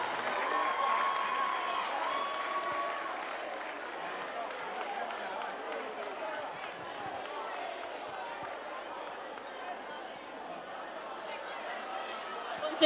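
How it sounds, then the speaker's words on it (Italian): An audience at a school short-film award ceremony applauds the actresses, a steady wash of clapping with crowd chatter mixed in, moderately loud and continuous throughout. "Forza, con un altro applauso alle nostre attrici!"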